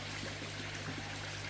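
Water from bags of red tilapia being tipped into a net beside a freshwater pool in Thailand, a steady close pouring and trickling rush with a faint constant hum underneath.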